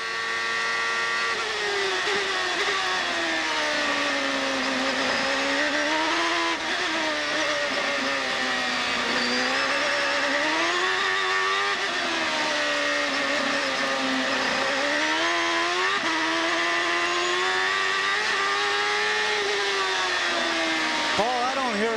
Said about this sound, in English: As he came past the pits a few moments ago, they said the engine was running rough.